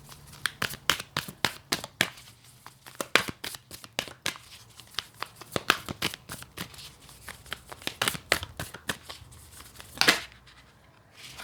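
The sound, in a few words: shuffling and drawing tarot and oracle cards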